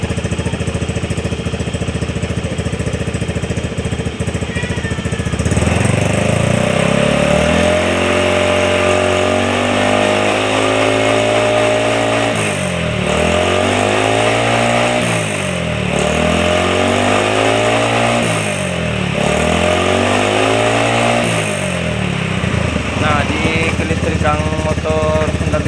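A Honda Beat carburetor scooter engine runs and is revved in several repeated surges, rising and falling in pitch, loud and close after a steady idle, with no talk over it.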